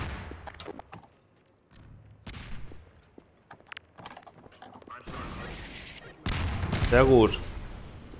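Grenade blasts and bursts of gunfire in the game Half-Life 2, with scattered shots and clattering early on and a louder, sustained rumbling explosion toward the end. Someone speaks briefly over it.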